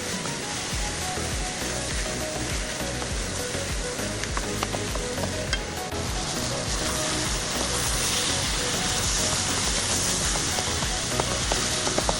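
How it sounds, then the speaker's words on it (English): Two pounds of ground beef sizzles and fries steadily in a pan, a dense, continuous crackle with occasional stirring scrapes, loud and close throughout. "Add 2 pounds ground beef, sauté until brown."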